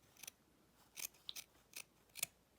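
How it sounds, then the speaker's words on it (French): Scissors snip through fabric for a sewn jewelry pouch, five short crisp cuts spaced irregularly, close and fairly quiet with no talking. "avec mon ciseau je vais venir découper le galbe"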